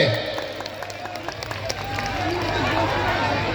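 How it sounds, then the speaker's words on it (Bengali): An audience at a memento presentation ceremony bursts into applause, a dense wash of clapping that swells and grows louder, with voices talking through it. "আবার জোরে হাততালি সকলে।"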